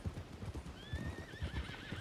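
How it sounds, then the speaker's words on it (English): Horse in a ranch role-play video game whinnies with a rising, wavering neigh over a steady clip-clop of hooves throughout, close and moderately loud. "look out for this horse up here."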